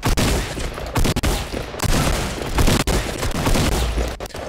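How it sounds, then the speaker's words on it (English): Fortnite gunfire fills the scene with dense, continuous loud shooting, rapid cracks and bursts overlapping with almost no breaks, up close and without talk. "I just need to shoot where people are going to be and where they actually are"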